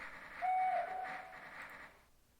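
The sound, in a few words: train running in the video game OpenTTD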